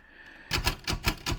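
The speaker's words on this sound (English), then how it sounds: "you might hear typing in the background" Rapid clusters of sharp clacking keystrokes, fairly close, coming in several short bursts with brief gaps between them, no voices.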